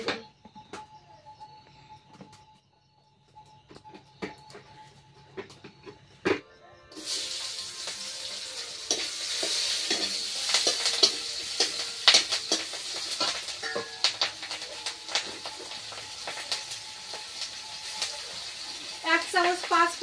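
Onion and green chili frying in oil in a pan, a soft hiss and sizzle that swells partway through and continues with scraping and stirring clinks, while someone talks over it.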